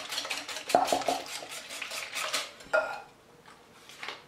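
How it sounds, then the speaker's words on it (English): A whisk knocks and scrapes around a bowl as milk is beaten into lemon poppy seed muffin batter, in quick uneven bursts with a couple of sharper clinks. "Now we'll whisk in the cup of milk"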